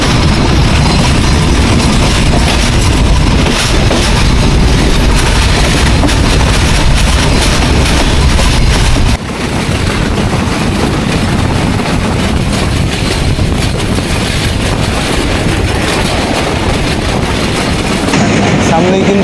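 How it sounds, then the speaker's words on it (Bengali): Mohananda local train running in Bangladesh, heard from inside as a loud continuous rumble and rattle of carriages on track with wind noise, a brief shift in tone partway through. "যশোর স্টেশন থেকে কিন্তু আমাদের ট্রেন কালীগঞ্জের উদ্দেশ্যে রওনা দিয়েছে।"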